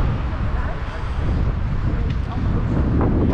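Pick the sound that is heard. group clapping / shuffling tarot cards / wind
wind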